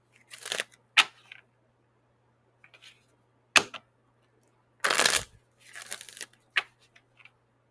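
Playing cards being shuffled close up in several separate riffles and snaps, with quiet pauses between them and a faint low hum underneath.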